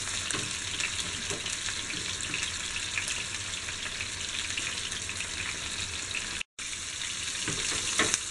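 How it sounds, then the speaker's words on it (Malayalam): Sardines fry in a pan for a Kerala-style fish fry, giving a steady, close, loud sizzle and crackle that barely changes and drops out for only a moment. "ഒരു സൈഡ് മരിയുന്ന വരെ നമുക്ക് വറക്കാം."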